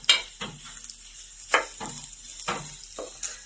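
Food being toasted in a frying pan sizzles steadily while a utensil stirs and scrapes it in several short, distinct bursts spaced about a second apart.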